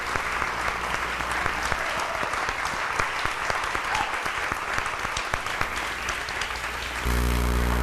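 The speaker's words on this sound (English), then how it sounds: "Would you please applaud with me Barbara Cox" A congregation at a church service applauds to honour Barbara Cox, Practitioner Emerita, a loud, dense, sustained clapping that holds steady for several seconds without speech.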